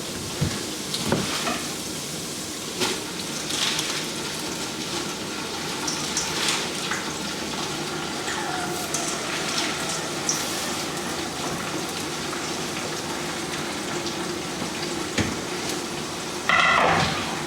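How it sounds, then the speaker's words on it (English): Half a cup of water poured into a hot pan of escarole with salt, a continuous sizzling, gushing wash of sound with a few clinks, close and alone. "I'm going to also put in a little bit of salt and a half cup of water."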